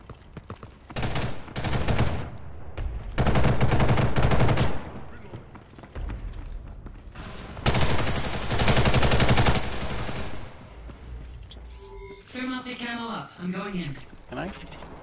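Heavy bursts of weapon fire from an arm-mounted missile launcher in Ghost in the Shell: First Assault, loud repeated volleys in several long salvos, with someone speaking near the end.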